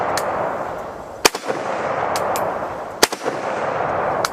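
A Romanian RH-10 rifle fires 7.62x39 rounds at a steel silhouette: two sharp, loud shots about two seconds apart, each followed closely by fainter metallic pings from the distant steel, over steady outdoor background noise.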